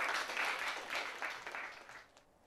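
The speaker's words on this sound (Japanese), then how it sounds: "シルバさんは生徒たちから大きな拍手で見送られ教室を後にしました" Students in a classroom applaud together, a soft, dense patter of many hands that holds steady and then fades toward the end, fairly faint and without voices over it.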